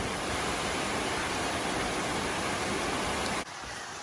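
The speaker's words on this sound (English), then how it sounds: "Beautiful waterfall." Waterfall in a gorge roars as a loud, steady broadband rush, with a slight drop in level near the end.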